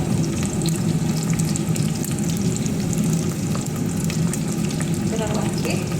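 Dried red chilies, fresh and dried curry leaves sizzle in hot oil as tempering for drumstick sambar, with a loud, dense, unbroken crackle and hiss lasting the whole time.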